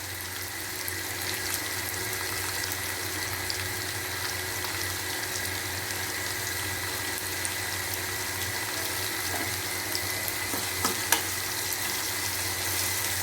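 Two tomatoes fry in a pan for a pomfret fish curry, giving a dense, even hiss that runs unbroken and close throughout, with a faint tap near the end.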